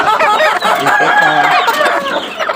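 A flock of backyard chickens clucking and crowing together, a loud, dense, overlapping chorus of calls close by.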